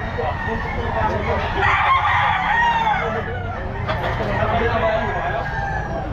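A rooster (stag) crows amid the busy hubbub of a pet market, the call blending into steady crowd noise and nearby talk throughout.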